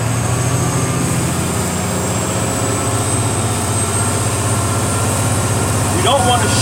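A tractor trailer's heavy diesel engine runs at a loud, steady, low rumble throughout, close by, with a voice speaking briefly near the end.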